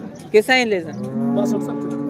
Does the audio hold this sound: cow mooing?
yes